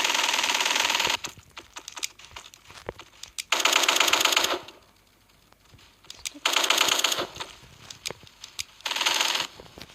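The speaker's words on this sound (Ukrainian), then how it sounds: "Нічого буду з автомата стріляти." Rapid automatic gunfire from an assault rifle in a zombie video game rattles out in several sustained bursts, separated by quieter stretches with scattered single shots and clicks.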